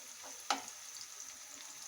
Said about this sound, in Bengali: এক পিঠে ভালো করে ভাজার পর আমরা অপর পিঠে উল্টে দেবো